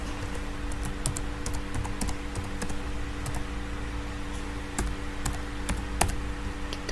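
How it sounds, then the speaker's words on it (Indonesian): Someone types a file name on a computer keyboard, a quick close patter of keystrokes over a faint steady hum, with no talking. "kita ketik."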